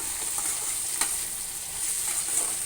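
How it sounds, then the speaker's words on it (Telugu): Salted potato curry being stirred in a pan, a soft continuous sizzle with a couple of brief spoon scrapes, close and quiet, with no talking. "సాల్ట్ వేసి కొంచెం కలుపుతున్నా"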